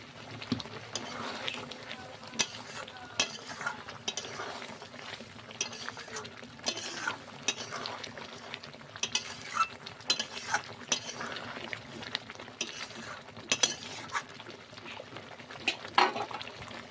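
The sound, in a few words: meat curry simmering in pan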